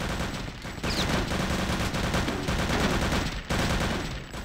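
Rapid gunfire from the Return to Castle Wolfenstein video game, dense and loud, with overlapping bursts of automatic weapons running continuously throughout.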